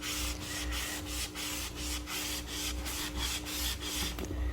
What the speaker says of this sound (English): then I'm taking the microfiber cloth and going over it again